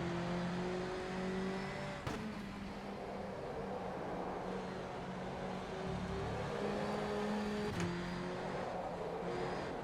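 Touring car from the BTCC NGTC mod in rFactor 2 driving laps on a track, with a steady engine drone holding and shifting pitch through gear changes and a couple of sharp transient clicks, continuous and fairly close.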